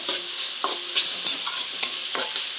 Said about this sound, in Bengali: পেঁয়াজটা আমি একটু লাল করে ভেজে নেব।